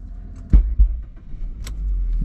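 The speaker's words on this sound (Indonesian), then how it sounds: "coba sekarang kita injak pedal kopling injak terlebih dahulu lalu kita starter kembali" A manual-transmission car engine cranks over with a couple of heavy low thumps, then catches and settles into a steady, low, close idle rumble. No one speaks.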